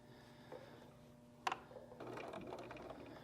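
A sewing machine runs in short, quiet mechanical bursts while a seam is started on fabric for a gnome bottle topper, with a sharp click in the middle and a soft whirring rattle afterward.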